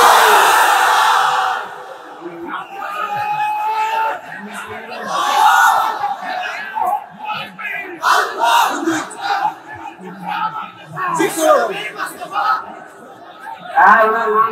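A crowd at a Bangla religious sermon gathering shouts the takbir in loud, repeated surges of massed voices, with a leader's calls alternating with the crowd's responses.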